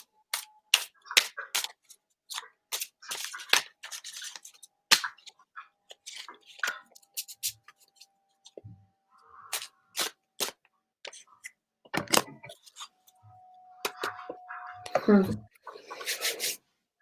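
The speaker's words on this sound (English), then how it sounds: "So I'll shuffle and see what we've got for Sue." Crisp, rapid riffles and flicks of tarot cards come in short bursts, with pauses between, and a soft voice hums briefly partway through.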